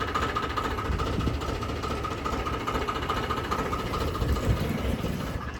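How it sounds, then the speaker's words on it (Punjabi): A tractor idles with a continuous low rumble and a faint rhythmic vibration, steady and moderately close, with no voices. "ਇਹ ਹੈਗਾ ਸਾਬੀ ਵਾਲਾ ਟਰੈਕਟਰ"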